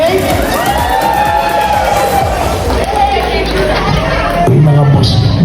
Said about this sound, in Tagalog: Palakpakan naman natin ang ating candidate.